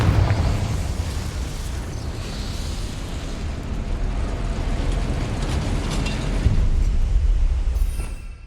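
A Confringo blasting curse explodes in Hogwarts Legacy, a dense, rumbling roar of fiery noise that holds for several seconds and swells slightly near the end before cutting off.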